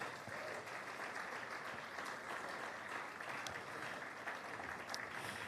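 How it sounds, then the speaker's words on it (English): Faint, distant applause from an audience at a Nigerian televised national forum, a soft steady patter of many hands lasting about five seconds with no clear voices. "Another round of applause for him,"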